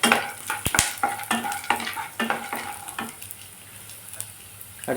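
Onions, tamarind, garlic, ginger and peanuts sizzle as they are sautéed in a pan, with close, rhythmic stirring and scraping strokes over a steady frying hiss that thins out toward the end.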